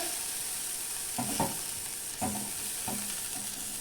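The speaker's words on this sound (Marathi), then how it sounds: "लाल मिरची पावडर हळद मसाला थोडा फ्राय करून घ्यायचा" Red chili powder, turmeric and masala being fried and stirred in a pan while making Karnataka-style puran poli; soft steady sizzle with a few distinct stirring scrapes, close and alone without talk.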